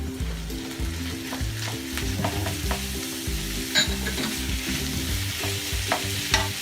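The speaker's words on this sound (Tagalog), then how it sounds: "So ipa-fry lang po natin ang ating bawang. At ang ating giniling guys, ilagay na rin natin." Garlic and ground meat sizzling in a pan, a loud continuous fry close by with light stirring clatter now and then, no voices.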